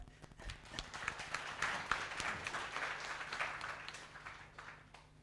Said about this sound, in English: So a big round of applause for Ngọc.